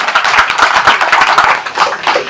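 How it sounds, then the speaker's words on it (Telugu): Audience members at a Telugu Desam Party political meeting clap in a close, lively burst of applause with irregular sharp claps that keep going without a break. "చంద్రబాబు గారు ఒకసారి గట్టిగా చప్పట్లు కొట్టండి చంద్రబాబు నాయుడు గారికి"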